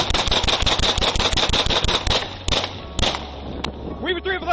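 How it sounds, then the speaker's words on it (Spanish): Gunshots ring out in a police shooting incident, first as a rapid string of sharp, loud cracks in quick succession, then a few spaced single shots, with a voice faintly audible near the end. "Shots fired!"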